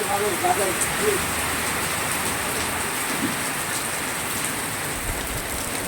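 Steady rain falling outdoors over a housing society area, a dense, even hiss with no clear pauses or thunder.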